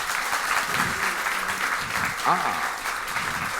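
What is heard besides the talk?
audience applause at a quiz show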